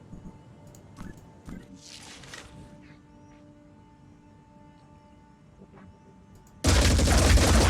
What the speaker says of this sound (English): we'll just murder him at point blank range with a big gun